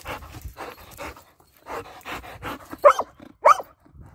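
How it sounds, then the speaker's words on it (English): A dog pants and huffs softly, then lets out two sharp barks near the end, close by. "Oh, you got a loud bark."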